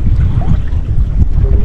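Strong wind roars steadily at sea aboard a small fishing boat, a loud, continuous low rumble buffeting the microphone with no voices.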